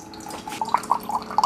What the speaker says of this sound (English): And here comes the hot water.